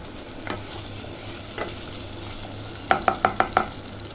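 Pork spare ribs are stirred and fried in a pan, a steady sizzle broken by a few scattered utensil scrapes and then five quick, evenly spaced clanks of a spatula against the pan.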